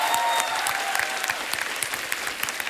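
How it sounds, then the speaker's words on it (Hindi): An audience at a comedy talk show applauds, with steady, dense clapping from a crowd continuing throughout at moderate volume. "जोरदार तालियां यार"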